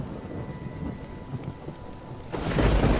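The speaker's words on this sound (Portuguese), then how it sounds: "É uma tempestade muito forte, eu disse." A heavy thunderstorm with a continuous rain wash and low thunder rumbling, which swells into a loud, close burst of thunder and downpour near the end.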